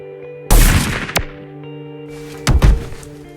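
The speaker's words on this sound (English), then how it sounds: "At least I get to test out this blaster." Nerf Ultra Pharaoh toy blaster firing, two loud, close bursts of punchy thumps about two seconds apart, each followed by a sharp crack, over a steady background hum, no speech.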